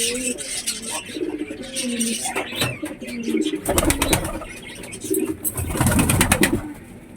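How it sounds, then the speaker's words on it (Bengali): A pure white domestic pigeon kept at home coos in repeated throaty rhythmic calls at close range, with wing flutters and rustling bursts between them. "ওখানটায় দেখো এই সাদা পায়রাটা, এটা আমার বাড়ির পায়রা"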